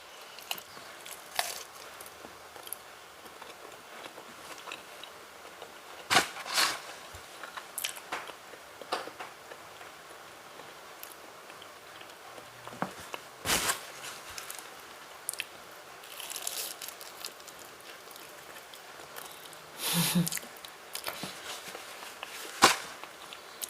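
Someone eats durian, with soft, scattered chewing, squishing and swallowing sounds close to the microphone, separated by quiet gaps.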